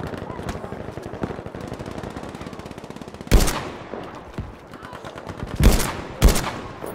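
Machine gun fire in the video game Battlefield V, a rapid steady burst of shots followed by several louder separate bangs, with faint voices talking underneath.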